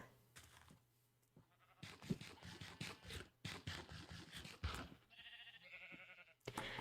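Sheep bleating in the Minecraft video game, several short game bleats scattered through the clip over quiet ambience and soft scratching game sounds, moderately loud and close, with no talking.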